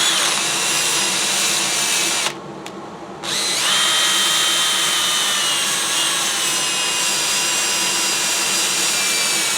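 Spalted maple bowl spinning on a wood lathe while being sanded with 80 grit, a loud continuous whirring hiss with a brief drop in the middle, then steady again, no talk.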